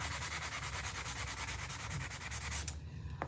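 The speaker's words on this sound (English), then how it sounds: "Let me just sand it." Rhythmic back-and-forth sanding strokes scrape against a spatula handle, close and steady, ending with a couple of sharper scuffs and no talking.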